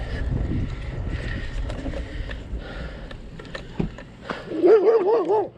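A dog barks a few times near the end, close and fairly loud, after a stretch of wind and faint outdoor noise on a bike ride past parked cars.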